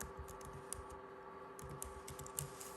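Light, irregular typing on a computer keyboard during a craft session assembling chapstick purses, soft close key clicks with a steady hum underneath and no talk.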